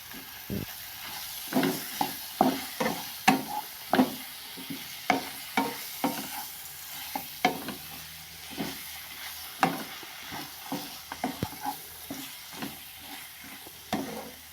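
Chicken pieces frying with ginger-garlic paste for a Kerala-style chicken sukka, a soft steady sizzle punctuated by regular close spoon scrapes and taps against the pan as it is stirred, without any voices.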